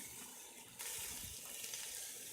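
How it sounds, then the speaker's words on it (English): Water pours into a stew pot for a slow-cooked sirloin beef stew, a steady close gushing and splashing that strengthens partway through and runs alone without talk. "and add a couple cups of water."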